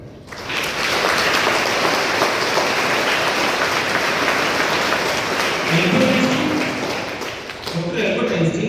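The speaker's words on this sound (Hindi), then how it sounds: "1921 में नोबेल पुरस्कार विजेता के लिए जोरदार तालियां।" A school audience at MMD International School in Hisar breaks into loud, sustained applause that stays steady for about eight seconds, with some voices rising near the end.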